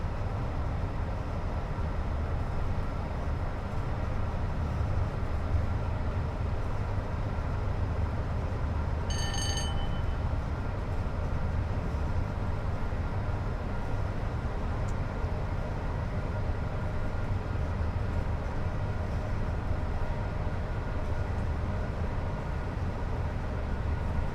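A train running in Train Sim World 6, a steady low rumble of wheels and rolling stock that continues evenly throughout, with a brief tonal squeal or horn-like note partway through.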